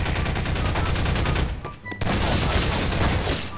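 Rapid bursts of gunfire in the sandbox game Garry's Mod, loud and dense, with a brief lull midway before the shooting resumes.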